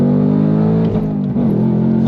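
A 2024 Ford Mustang Dark Horse V8 with a six-speed manual pulls hard on throttle, its steady loud engine drone holding through the run with a brief dip and quick pitch shift near the middle, like a gear change.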